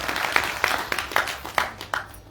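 An audience at a Hindi religious gathering applauds. The clapping is loud and continuous, with sharper bursts recurring about twice a second, and no voices are heard over it.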